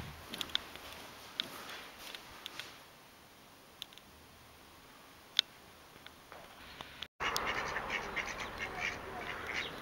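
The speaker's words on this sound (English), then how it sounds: "Random ducks in a back street." Ducks quack in a back street, a few faint scattered calls over steady outdoor background noise, followed by a brief dropout and then louder broadband street ambience.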